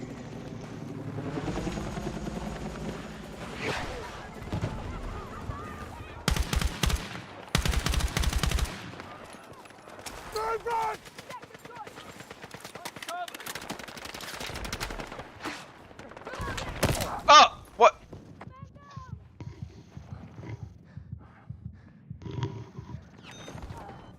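Video game gunfire comes in loud bursts of rapid automatic shots and single cracks, with mechanical clanks between volleys and a faint whirring drone underneath.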